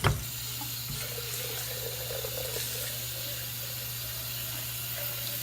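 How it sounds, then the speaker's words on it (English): Running tap water splashes steadily into a blender being rinsed, a continuous hiss and patter close by with no talking. "I want you to rinse the blender first."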